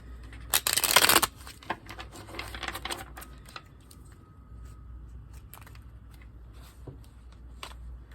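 Tarot cards riffle in a dense, loud burst near the start, then lighter flicks, taps and soft handling noises scattered across the rest at close range.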